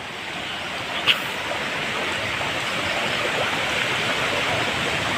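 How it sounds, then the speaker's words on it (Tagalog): Strong northeast monsoon wind blowing during Typhoon Odette, a steady, rushing roar of air that is broad and unbroken, with one brief sharp knock near the start. "Malakas ang hangin kasi amihan."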